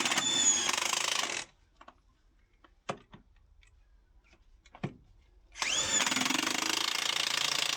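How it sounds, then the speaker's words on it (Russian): A heavy Makita impact wrench hammers hard and loud in two long bursts at the start and end, with a quieter gap between holding a few sharp clicks and knocks. "Эту Макиту мы почему-то называем дурнем, потому что она тяжелая и молотит. И очень сильно молотит."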